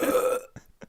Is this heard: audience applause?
no